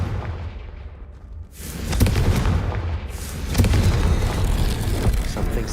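Two heavy booming blasts from the Confringo fire spell in Hogwarts Legacy erupt close and loud, the first rising after a quieter lull and the second following a second and a half later, each trailing into rumbling debris.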